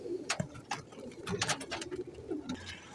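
Ferozpuri pigeons coo softly in a pen, several low murmuring calls close by, mixed with light fluttering and scattered clicks.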